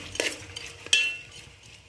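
Chicken pieces coated with a little turmeric fry in a pan while a utensil stirs and scrapes against the metal, with a couple of sharp clinks over a quiet sizzle. No one speaks.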